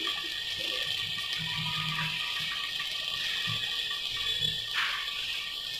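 Onions sauté in hot oil in a pressure cooker for turkey biryani, making a soft, steady frying hiss that carries on without a break at low volume, with no voices over it.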